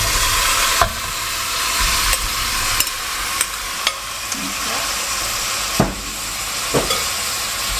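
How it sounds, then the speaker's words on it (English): Beef and its juices land in a hot pan of spicy stewed beef, a loud steady sizzle and hiss broken by a series of sharp clinks and scrapes as the meat is stirred. "Now we're going to add the beef and the juices back in."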